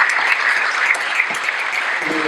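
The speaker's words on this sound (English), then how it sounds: "we can give Reverend Sofia a round of applause" An audience at a panel discussion on race and the prison system in Fresno applauds steadily, a dense, even wash of clapping that stays level throughout.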